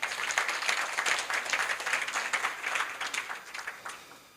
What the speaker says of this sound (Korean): 안전한 블록체인 비즈니스를 위한 파수꾼, 수호의 박지수 대표를 박수로 맞아주시기 바랍니다